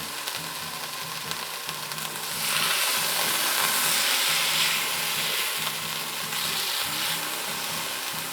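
A steak sears in a cast iron pan, giving a continuous close sizzle and frying hiss that swells louder partway through and stays dense and steady, with a low hum underneath.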